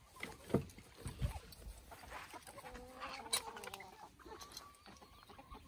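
Hens and a rooster of mixed breeds, including naked-neck and crested birds, cluck softly in a yard, scattered short calls and a few drawn-out notes, faint and fairly close.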